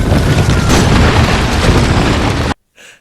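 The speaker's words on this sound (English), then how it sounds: "So the city's been bombed." A city bombing in a war drama erupts in loud, sustained explosive rumbling that stops abruptly and is followed by a brief faint tail.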